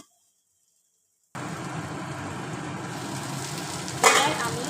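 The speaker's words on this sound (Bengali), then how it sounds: "কেটে রাখা বেগুনগুলো এবার এটা একটু ঢাকা দিয়ে দেবো যাতে ভালো করে ভাজা হয়" Cut eggplant frying in a covered pan, starting after a moment of silence with a steady, fairly loud sizzle and a brief louder burst near the end.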